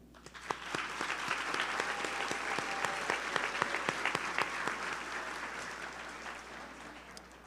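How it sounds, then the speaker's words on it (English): An audience at the Brooklyn Center Class of 2026 commencement ceremony applauds the families with steady, dense clapping that fills the hall and holds evenly throughout, with no talking over it. "I'm going to ask you to applaud, please"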